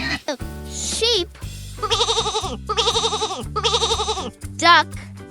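Sheep bleat three times in a steady, wavering series, close and loud over a bouncy children's music backing, with short sung or spoken voices at the start and end.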